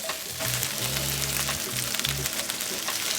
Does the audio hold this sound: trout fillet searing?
yes